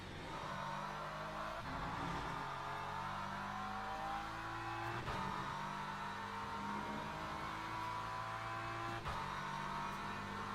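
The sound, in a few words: race car engine at Silverstone, onboard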